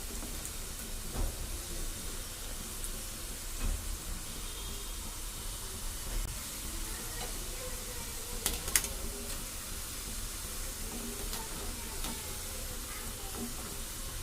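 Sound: Mysore bondas deep-frying in oil

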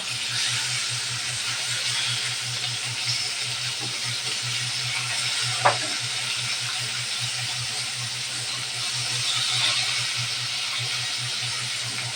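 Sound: rohu fish frying in hot oil

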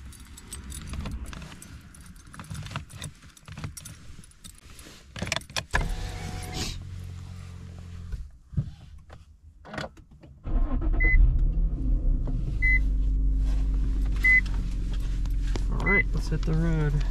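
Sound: 2008 Infiniti M35X car driving off

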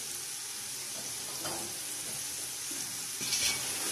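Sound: fried chicken added and stirred into green pulao

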